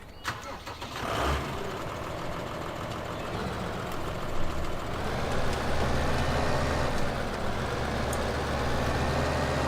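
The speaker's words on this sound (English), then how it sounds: "We'll get the tractor started." A tractor engine in Farming Simulator 2015 cranks over and settles into a steady, loud idle, with a continuous low rumble filling the rest of the clip.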